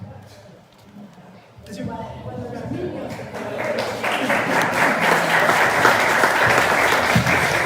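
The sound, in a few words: audience applause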